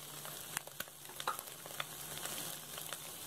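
Beans and carrot frying in a pan with egg for prawn fried rice, a quiet continuous sizzle broken by light scattered ticks and scrapes of stirring, close by, no talking.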